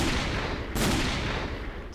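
A gold-plated revolver firing 9mm rounds in Minecraft with the Tech Guns mod lets off a single loud, sharp shot with a brief crack that hangs over a steady, dense background rumble.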